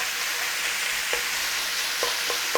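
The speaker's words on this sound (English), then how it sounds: "cook off your mince in the pan" Beef mince frying in a pan, a steady broadband sizzle with a few soft stirring scrapes near the end; no talking.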